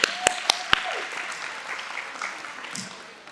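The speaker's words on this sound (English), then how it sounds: "Give them a round of applause." A short burst of applause at a community baby shower: a few sharp claps up front, then a softer wash of clapping from the crowd that fades away.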